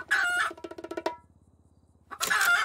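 A rooster crows loudly and close by in two strong harmonic bursts, one at the start and one at the end, with a quieter stretch of rapid pulsing clucks between them and no talking.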